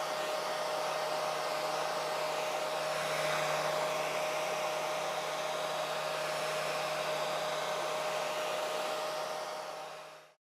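A heat gun blows steadily while warming a dented rubber car bumper, a constant close whooshing roar with a faint whine, running alone before cutting off at the end.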